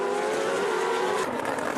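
A1GP single-seater race cars on a circuit with a high-pitched engine whine that holds steady, then drops in pitch as a car passes close, loud and continuous.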